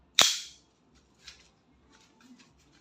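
An EMG Pit Viper airsoft pistol, a John Wick 4 licensed replica, fires one sharp, close crack during a shoot test, followed by faint clicks and handling noise.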